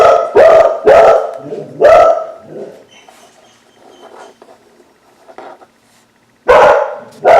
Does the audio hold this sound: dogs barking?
yes